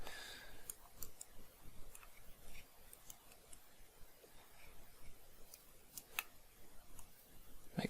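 Quick, faint keypresses on a calculator, a scattered run of light clicks spread across the stretch with no talking.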